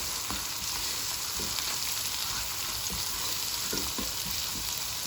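Ground onions fry in a pan for meat kofta and egg curry, giving a steady, moderate sizzle throughout with soft, irregular scrapes and taps of a spoon stirring the mixture.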